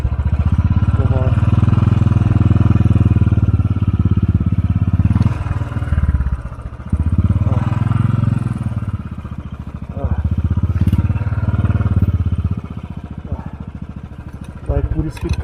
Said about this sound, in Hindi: बाइक पूरी स्किप कर रही है।